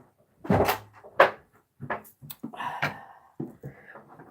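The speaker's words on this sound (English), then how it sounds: "Let me close my door now." An indoor room door being shut, heard as a few close knocks and a latch click among light shuffling and handling noises, with no talking.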